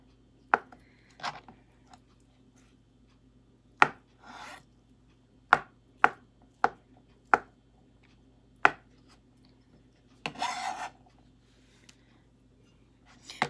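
A knife cutting boiled eggs on a board for potato egg salad: a series of crisp, separate chops at an uneven pace, close by, with a short rustle near the end.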